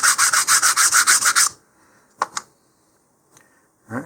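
A LOC Precision model rocket part is sanded by hand in about nine quick, rhythmic rasping strokes close up. Silence follows, broken only by a few light taps and handling noises.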